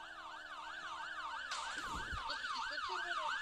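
A fire engine siren wails in a steady rising-and-falling cycle, loud and continuous throughout, with a burst of broadband noise and low rumble joining partway through.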